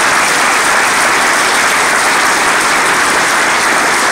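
A hall audience at a party anniversary celebration breaks into loud, dense applause, an even wash of clapping that continues steadily throughout without pause.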